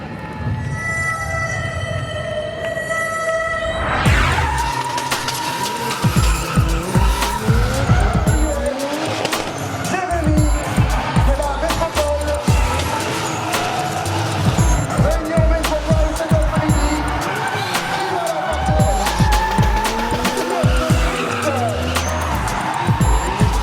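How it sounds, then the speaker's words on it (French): Cars drifting at a motor show, Motor Expo 2019, tires squealing and skidding continuously with revving engines, loud and close, over crowd noise and an announcer's voice. "L'animation vedette du salon, c'est le drift avec Jérémy Mérires"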